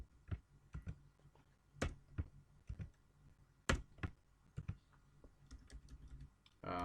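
Names being typed on a computer keyboard: close, irregular bursts of sharp key clicks with short pauses between words, a heavier keystroke near the end, no talking.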